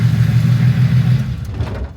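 A project car, Ron Burgundy, pulls away under its own power as the clutch engages, its mid-pitched engine droning steadily and close by before easing off near the end.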